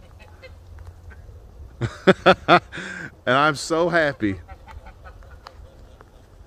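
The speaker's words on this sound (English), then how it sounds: "Those are all our old ducks." Ducks at a pond give a run of loud, close honking quacks, a few separate calls and then a longer raucous burst, while a person speaks nearby.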